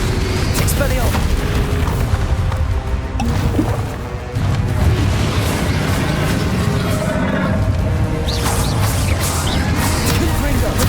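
Explosive spell blasts from Hogwarts Legacy combat: loud, dense booms and crashing impacts roll on almost without a break, with a brief lull near four seconds and a voice calling out over the din.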